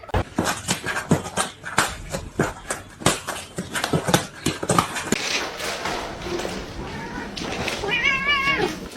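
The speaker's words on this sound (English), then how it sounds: "Meow, meow, meow, meow, meow, meow." Cats fight and meow, with bursts of harsh, wavering cries and yowls that rise into a strained caterwaul near the end. A few sharp knocks and other noise mix in with the calls.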